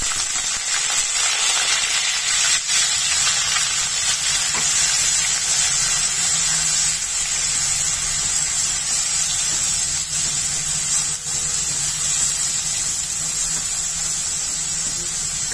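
Coarsely ground onion frying in hot oil with curry leaves, a loud, steady, close sizzle and hiss that continues without a break.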